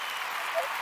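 A live studio audience claps in a short, steady burst of applause, an even hiss of many hands close by with no pauses.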